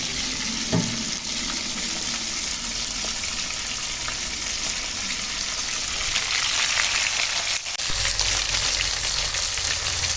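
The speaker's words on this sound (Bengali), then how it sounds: "মাছ ভাজবে নাকি হ্যাঁ মাছ ভাজি" Bhola fish frying in hot oil gives a dense, loud, continuous sizzle and crackle throughout, close by, with a brief clatter near the start and no one talking.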